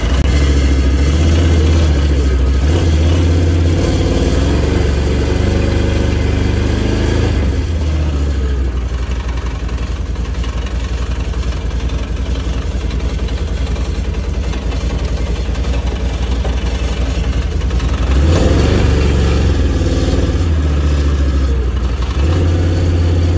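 An ATV four-wheeler, a Can-Am Renegade XMR 1000 or Polaris Sportsman, runs loud and close, its engine rumbling and swelling in revs at the start and again toward the end.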